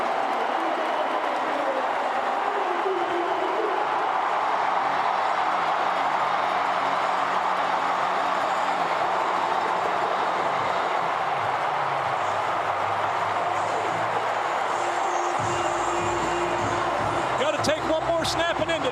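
A crowd roars steadily in a packed Oklahoma State football stadium during the Bedlam game against Oklahoma, a sustained loud wall of noise with a voice talking over it.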